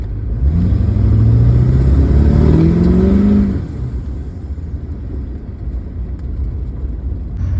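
A car with a PPE wastegate accelerates hard on a cold run, its engine rumbling loud and near with a rising whir as the turbo spools slowly, then easing to a lower steady drone.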